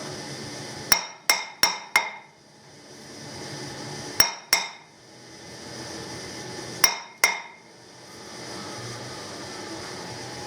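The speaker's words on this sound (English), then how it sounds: "some tapping with a copper hammer." Sharp metallic taps from a copper hammer on a machined car part in quick bursts: four rapid strikes, a pause, two more, then another pair, each ringing briefly against a steady background hum.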